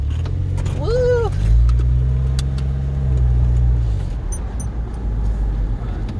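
A 2001 Porsche 911 Carrera 4 (996) on a test drive, its engine a loud low rumble inside the cabin that rises briefly and then settles to an idle-like hum, with a short voice exclamation near the start.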